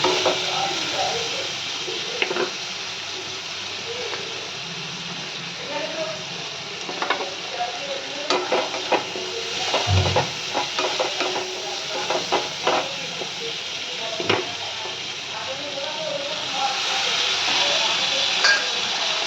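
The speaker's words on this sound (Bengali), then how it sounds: "মশলাটাকে দিয়ে একটু ভালো করে নাড়াচাড়া করে দিয়ে দেবো" Masala paste, loosened with water, stirred in a hot frying pan, giving a continuous sizzle and hiss with scraping and clinking of the spoon against the pan at irregular intervals, close and fairly loud.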